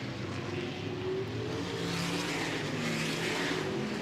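A race car at Anderson Speedway during Little 500 qualifying drones past the start-finish line, its engine a steady, moderately distant roar sustained throughout without a clear rise or fade.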